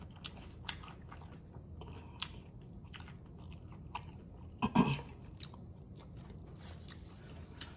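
Crunchy homemade tacos being bitten and chewed up close, with a louder crunching bite around the middle over a quiet, steady background.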